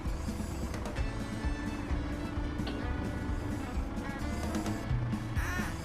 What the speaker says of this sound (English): we've got to get all the ducks with hats on